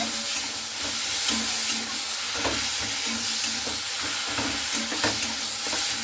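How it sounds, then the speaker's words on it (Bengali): Drumstick greens and mustard greens with jackfruit seeds sizzling in a pan while being stirred, a continuous close frying hiss with soft scraping strokes and no talk. "সরিষা শাকটা দিয়ে খুব ভালো করে দেখুন কাঁঠালের বীজের সঙ্গে এভাবে আমি নাড়াচাড়া করে নিচ্ছি।"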